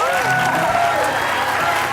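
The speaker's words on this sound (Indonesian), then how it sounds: "Tepuk tangan dulu dong buat Ayu dia." Studio audience applauding for a guest named Ayu on a comedy talk show, loud continuous clapping with a voice speaking over it.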